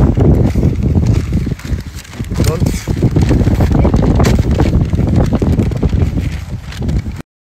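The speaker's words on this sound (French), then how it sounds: "Il y a trop de vent." Loud, buffeting wind roaring into an outdoor microphone in the Maldives, continuous rumbling gusts that pulse and swell throughout and cut off abruptly at the end.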